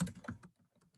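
Rapid typing on a computer keyboard while writing React code, a quick burst of close, crisp key clicks that thins out into a few lighter taps.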